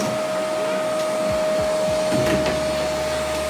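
A vacuum cleaner drones steadily and loudly throughout as a child vacuums a room during home cleaning, with no talk over the motor.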